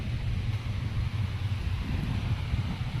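Steady wind at the seashore on Havelock Island rumbling close against the microphone, a constant low roar with no breaks and no voices.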